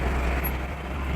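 Dense road traffic crawling in a heavy holiday jam on the Gilimanuk–Denpasar highway in Bali, a steady low rumble of car and truck engines with a faint air-brake hiss, continuous and fairly close.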